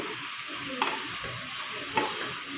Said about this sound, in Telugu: ఇప్పుడైతే చిక్కుడుకాయలు వేసుకుంటున్నా